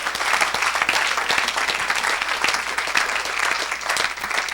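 Church congregation applauding at a Saturday worship service, a dense, steady wash of many hands clapping together, loud and sustained throughout with no pauses.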